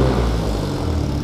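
A 1974 Jensen Healey MK2 with a Lotus engine runs steadily nearby, a dense, continuous low engine rumble holding an even level throughout with no voices.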